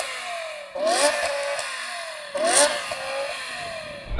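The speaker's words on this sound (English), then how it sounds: "I'm going to rev this up first" A BMW M5 engine revving, two sharp throttle blips that climb and fall away, then a third starting at the end, loud and close with idle between.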